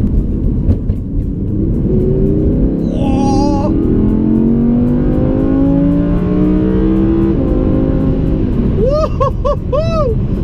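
An Audi R8 V10 RWS engine accelerating hard toward 100 in one gear, its rising whine climbing steadily in pitch as it revs up, loud and close, with brief squealing tones near the start and end.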